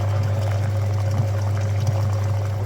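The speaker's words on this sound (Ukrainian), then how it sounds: "таку жижу вливаємо" Flushing liquid is poured into the cooling system of a Mitsubishi Outlander during a coolant flush, the close, steady pour set against a constant low mechanical hum.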